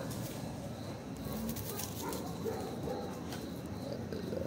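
A pitbull barks and whimpers faintly at a distance at a house, the sound mixed into a steady hiss of background noise.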